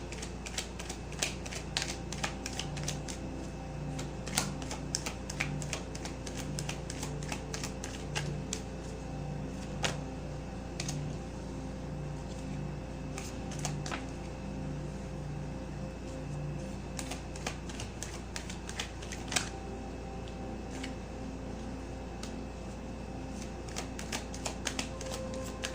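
Tarot cards are shuffled for a pick-a-card reading, a long run of crisp, rapid riffling and slapping near the listener, with occasional sharper snaps and a steady low background hum.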